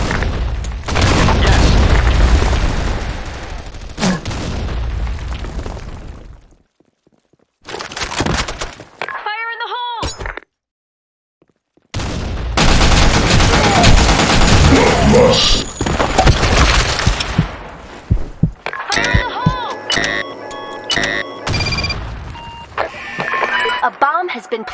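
Loud booms and bursts of gunfire from the online shooter Blackshot during a match, with explosions and rapid shots filling most of the stretch, a brief near-silent gap in the middle, and voices talking over the game action.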